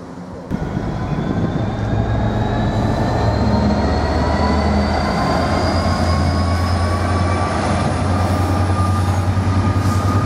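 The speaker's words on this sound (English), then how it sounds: "We're on intermodal, passing through platform 1" An intermodal freight train passes through platform 1 at Ely station, a loud, close, continuous rumble of wagons with rising wheel squeal and a low steady drone, no talking.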